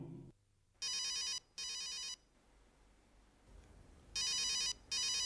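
A telephone rings from an unknown number, an electronic bell ringtone sounding in repeated bursts with gaps between them, fairly faint over a low background hum.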